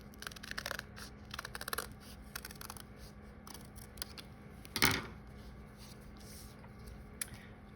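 Scissors snip through folded paper to cut matching shapes for a bear collage, producing quiet, close clusters of crisp cutting crunches, one sharper louder snip midway, with no talking.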